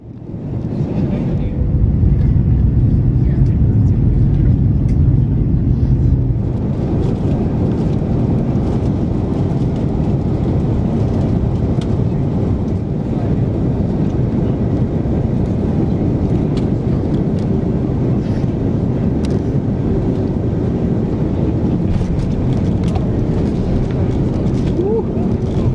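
A steady, loud low-frequency roar fills the economy cabin of an Air Canada Airbus A330-300 descending toward Barcelona, with a slight shift in the drone after a few seconds and no talk in the clip.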